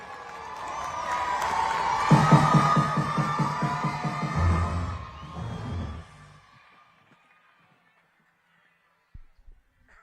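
Cheering, shouting and whoops rise from a crowd at a pickleball tournament in India, swelling loudly for several seconds before fading into near silence, then a couple of brief sharp knocks.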